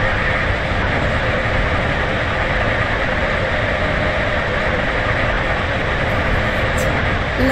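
A Roblox train on the Stepford County Railway line rolls toward Leighton Stepford Road station with a loud, steady rushing rumble and faint clatter, continuous and close throughout.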